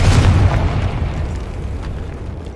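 A spell explosion booms in the Hogwarts Legacy video game, a loud deep blast that opens strongly and rumbles away over about two seconds.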